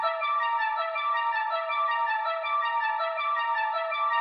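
Pitched-up synth arpeggio treated with EQ, halftime and reverb plays a smooth, repetitive sustained pattern of bright tones, steady and close throughout with no one speaking.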